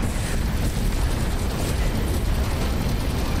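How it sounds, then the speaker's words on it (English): Rockets fired and bursting in Serious Sam 4, a dense, continuous roar of loud overlapping explosions with heavy low rumble throughout. "I'm just kind of like shooting rockets with reckless abandon."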